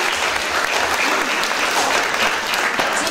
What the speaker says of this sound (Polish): jeszcze raz wielkie brawa dla zespołu wesołych.